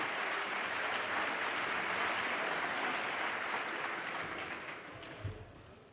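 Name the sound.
audience applauding Sarkozy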